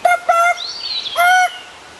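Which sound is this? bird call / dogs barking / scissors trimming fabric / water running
bird call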